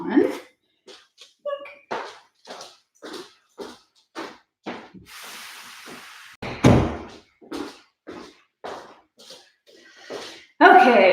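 A door swings shut in a home room full of snakes, with a loud thump near the middle among scattered knocks and handling bumps close to the microphone.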